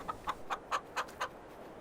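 A rooster in the Farming Simulator 22 video game clucks six times in an even, rapid series, each short call crisp and evenly spaced, fairly quiet and alone.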